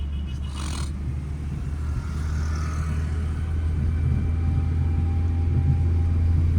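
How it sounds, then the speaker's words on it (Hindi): A car accelerates through narrow city traffic in second gear, a steady engine rumble rising gradually in loudness and holding strong throughout, with a brief higher whine near the start. "अभी स्पीड बढ़ा लो, फटाफट एक्सेलेटर ले लो"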